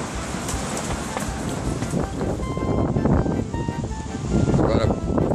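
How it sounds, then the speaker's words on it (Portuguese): Wind gusts roar and buffet against a Quechua Arpenaz T5.2 XL tent, a steady broadband rush that swells louder toward the end, with a person speaking over it. "E o vento corre solto."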